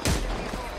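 Gunfire in a video game, a single loud burst with a sharp onset and a deep low boom that decays over under a second, alone without talk.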